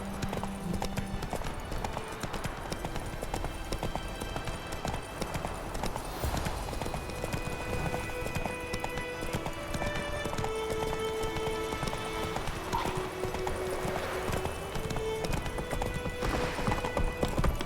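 Hoofbeats of Roach, Geralt's horse in The Witcher 3: Wild Hunt, clopping steadily and close throughout, with a few snorts and a whinny over game music and ambience.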